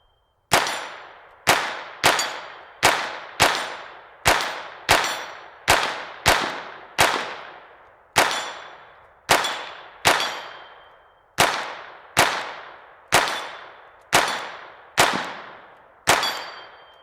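A SIG P322 Competition .22LR pistol fires CCI rounds at steel targets: about twenty sharp, loud shots in an uneven rhythm, each with a ringing decay, no talking.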